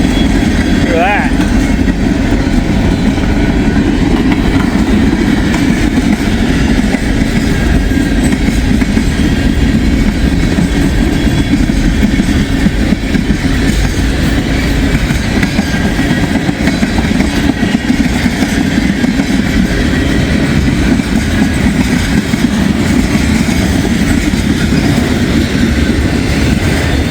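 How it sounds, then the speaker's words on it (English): A big train passes on the old Sioux line with a loud, continuous roar of engine and rolling wagons that holds steady for nearly half a minute. "Oh, it's a big train."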